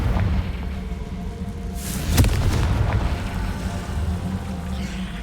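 A Confringo blasting spell goes off in Hogwarts Legacy, giving one sharp, loud burst of fire and crackle partway through. It sits over a steady low rumble of ambient wind and water.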